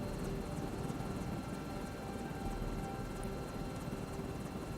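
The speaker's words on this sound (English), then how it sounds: "Just be happy this helicopter's even back." Helicopter in Microsoft Flight Simulator 2024, a dense, steady rotor and turbine roar with faint rhythmic blade pulsing, loud and continuous throughout, with no talking.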